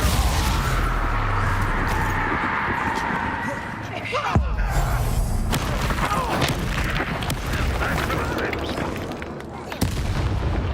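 Wizard duel in Hogwarts Legacy with a Confringo spell blast, heavy booming rumble under a voice, one sharp explosive crack partway through and another thump near the end.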